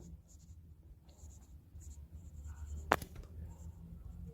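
Chalk or marker scratching across a classroom board while a physics question on projectile motion is written out, soft intermittent strokes with one sharp tap near the end, over low room hum.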